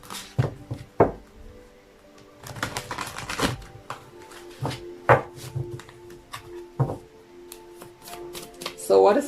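Psychic Tarot and Oracle cards are shuffled by hand in irregular bursts of riffling and tapping, close and fairly crisp, with a voice speaking at times.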